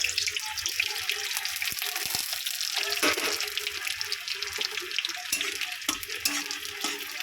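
Chicken pieces frying in a pan with whole spices (dried red chillies, cardamom, cinnamon, cloves, bay leaves and cumin), giving a steady close sizzle with scraping stir strokes and a few sharp clinks throughout.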